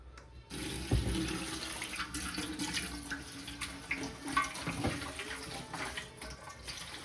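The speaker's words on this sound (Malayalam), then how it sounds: "അപ്പോൾ ഇതൊന്ന് നന്നായിട്ടൊന്ന് കഴുകിയെടുക്കട്ടെ" Herbs for a traditional body-pain remedy are rinsed under running tap water, a steady close splashing stream with brief surges and no talk.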